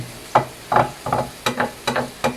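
Garlic fries in a pan for a classic menudo, with about seven short bursts of sizzling and stirring scrapes spaced at an uneven rhythm, close and distinct, with no talking over them.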